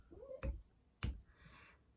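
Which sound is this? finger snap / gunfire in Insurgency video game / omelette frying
finger snap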